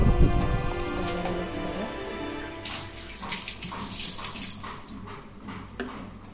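Tap water runs and splashes as crabs are washed for curry, a close, continuous gush with clattering handling at the start and softer splashing and knocks later; no clear speech.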